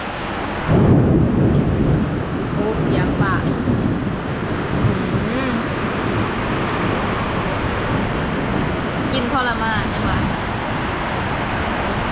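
A heavy thunderstorm over Vang Vieng, Laos: a loud thunderclap near the start, then steady rain and gusting wind buffeting the microphone, with brief voices talking underneath.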